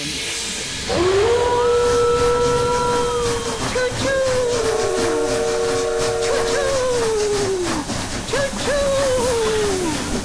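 A steam train whistle sounds in several long, wavering hoots over a continuous loud hiss of steam, rising and falling in pitch like a spooky ghost-train effect.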